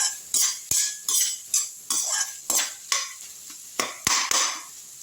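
Bitter gourd sautéing in a pan, with a spatula scraping and stirring in about nine sharp, regular strokes against the metal over a soft background sizzle, close and fairly loud with no talking.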